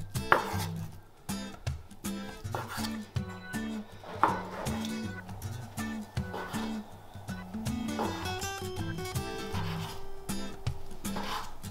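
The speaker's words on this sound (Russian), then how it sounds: "Очищенный язык разрезаем сначала вдоль," A knife cutting peeled beef tongue into pieces on a board, a run of close, uneven chops and slicing rubs repeating throughout, no voices.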